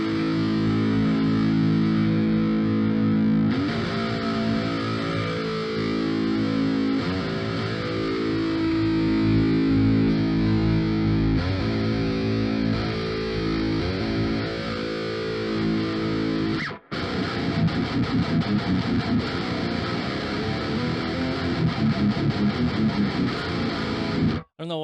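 A heavily distorted electric guitar plays through a Mercuriall Ampbox amp simulator with an impulse response, giving dense sustained chords and riffs, a brief cut near the end, and continuous loud saturated tone.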